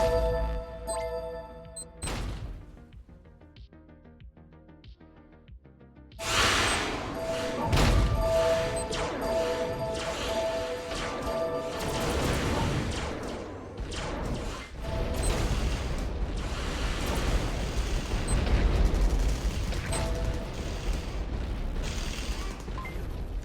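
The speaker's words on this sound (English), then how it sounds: "That was a lot of missiles." A barrage of missile explosions in the space game Pixel Starships lands as repeated thuds and booms over mechanical game sounds, growing dense and loud after a sparse, quieter opening.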